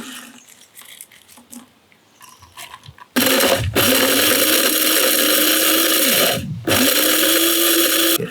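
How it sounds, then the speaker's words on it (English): Coffee grinder chopping banana peels, starting with faint handling clatter, then a loud close motor whir with blade rattle, a brief stop and restart. "So now we want to fill our coffee grinder up."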